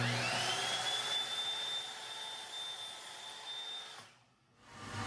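A workshop dust collector runs with a steady broadband whoosh and a thin high whine, fairly quiet, and then cuts off abruptly near the end before a faint return of noise.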